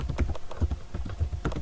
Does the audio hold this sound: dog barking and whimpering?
no